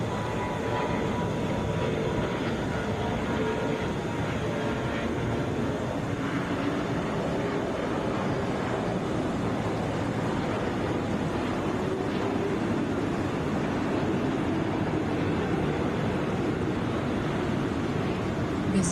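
A Sun Country Boeing 737, eleven years old, at Atlanta airport, heard as a loud continuous broadband engine roar that holds steady throughout with no pauses, a dense jet rumble from fairly close by.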